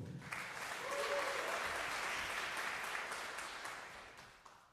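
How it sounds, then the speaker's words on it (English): Sustained audience applause fills a jazz concert hall, with dense clapping building quickly and holding steady before tapering slightly, no voices over it. "you can applaud again"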